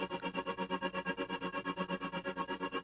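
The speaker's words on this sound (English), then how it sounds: "and get a stuttering vocal." A sustained sung vocal note is chopped by a rhythmic LFO-style volume tool into fast, even stuttering pulses, about eight per second, repeating steadily with a bright, harmonic tone.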